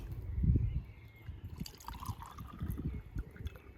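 Water poured into a fresh flower arrangement, a continuous low trickle and splash lasting several seconds, close by, with a gurgling fill toward the end and no talking.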